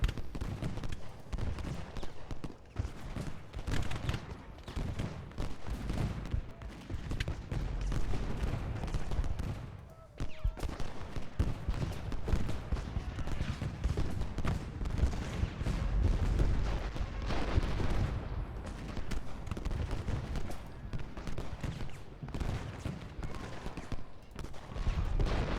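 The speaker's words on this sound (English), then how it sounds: "Brigadier General Scales is taking withering fire from Federal artillery" Artillery booms and crackling musket volleys from a Gettysburg battle in Ultimate General: Gettysburg roll on continuously, dense and loud with overlapping blasts.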